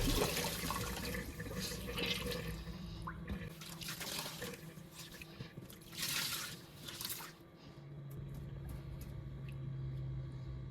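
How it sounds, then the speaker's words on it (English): Water draining from a sink after polishing pads are washed and wrung out, gurgling and dripping with splashy bursts, then a steadier low drain hum near the end. "let's wring them out and drain the sink."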